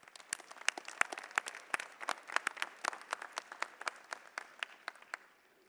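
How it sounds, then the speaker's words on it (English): Sparse applause from a small audience at a graduation, distinct individual claps in an irregular rhythm, fairly faint and fading out toward the end. "let's give a round of applause to the family, friends, and loved ones for their support for your 24 weeks."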